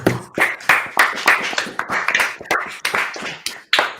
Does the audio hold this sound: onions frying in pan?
no